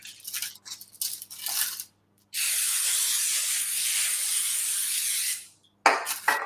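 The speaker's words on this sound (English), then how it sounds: "I just sprayed the balls instead of my spoon" Cooking spray hisses from a can onto balls of dough in one loud, steady three-second burst, with a few brief spritzes and clatters around it.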